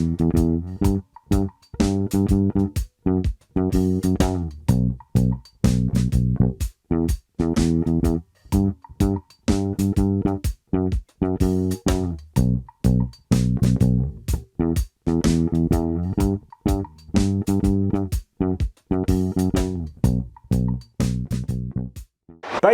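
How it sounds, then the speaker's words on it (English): A four-bar reggae bass line plays loud and close alongside a drum track, with short, punchy bass notes separated by brief gaps in a steady, syncopated groove. "let's put it with the drum track so you can hear what this sounds like"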